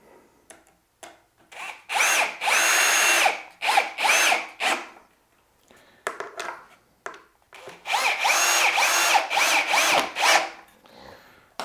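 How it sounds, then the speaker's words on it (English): Power drill driving screws into a wash station during assembly: repeated loud whirring bursts, two longer runs with short trigger pulses between, close up. "Put these 2 screws in."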